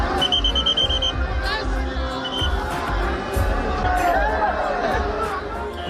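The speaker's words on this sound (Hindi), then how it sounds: "संग लाखों लोगों की भीड़" A huge crowd of pilgrims gathers for the Mahakumbh holy bathing at Prayagraj, a dense, loud babble of many voices close around, with shouts, whistles and a tonal horn-like call rising above the steady hubbub.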